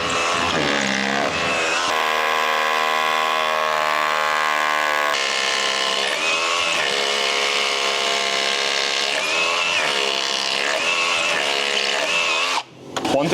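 An impact driver runs on a framing job site in long, loud bursts with a steady motor whine and a hammering rattle. It stops briefly near the end, and there is no talk.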